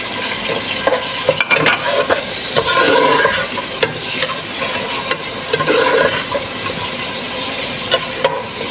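Dry spices tipped into a pan of frying potato curry set off a loud, close sizzle, with a spoon scraping and stirring in irregular bursts.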